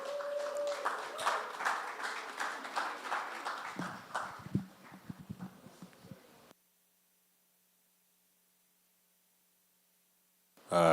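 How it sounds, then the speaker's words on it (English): Audience at a church photography masterclass gives a round of applause welcoming the convener: dense clapping for about six seconds that thins out, then cuts to near silence before a brief sound at the end. "Everyone please welcome, round of applause for our convener"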